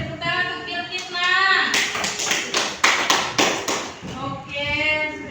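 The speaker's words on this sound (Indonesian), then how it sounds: "Beri tepuk tangan untuk Bilkisna." Elementary school children in a classroom clap together in a quick rhythmic burst for a classmate, with a teacher speaking before and after the clapping.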